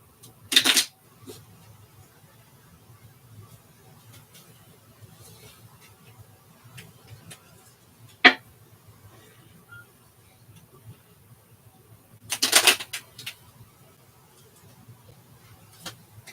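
Tarot cards being shuffled in brief riffling bursts, two longer ones far apart and a sharp tap between, faint and close in an otherwise quiet room.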